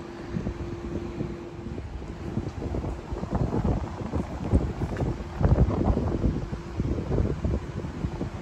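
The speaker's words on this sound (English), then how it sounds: "It's a very, very windy day" Strong wind sweeps across a Canberra light rail stop on a very windy day, loud rumbling gusts buffeting the microphone that swell and ease without pause, with no talking.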